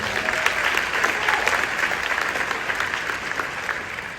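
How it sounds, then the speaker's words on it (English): A large audience at a city's State of the City address in East Orange breaks into sustained, dense applause, a steady wash of many hands clapping at an even level throughout with no speech over it. "Give them a round of applause."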